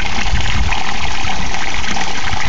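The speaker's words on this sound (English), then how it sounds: "This pipe in the middle is overflow going from the two tubs, which are joined together, and it overflows back into this" Steady loud rush of water pouring from an overflow pipe into an aquaponics cage tub, a constant broadband gush with no breaks, close by.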